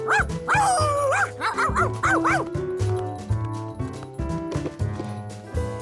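A cartoon dog yips and barks in quick bursts, some whimpering, with a bouncy music bed and light clopping beneath, loud and close throughout.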